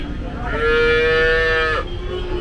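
A single loud, drawn-out moo from a cow at the Kundadam cattle market, close and clear over a background murmur of the busy market.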